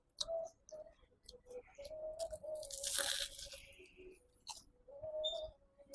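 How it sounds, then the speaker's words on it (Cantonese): A large hot dog is bitten and chewed at a Hong Kong hotel restaurant, with soft crunching and moist bites up close, quiet clicks, and a faint tonal background hum. "而家試下個熱狗先啊！"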